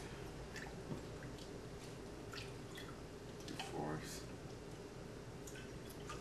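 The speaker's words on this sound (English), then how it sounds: "to that we're going to add 3/4 cup of ice cold water" Ice-cold water poured into a bowl of egg yolks while making meat pie pastry; a soft trickle and drip against steady room noise, with a voice murmuring.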